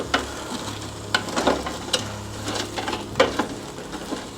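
Air-fried potato fries tossed with tongs, giving soft scattered scraping and clinking taps against the basket under a faint hum, no talking.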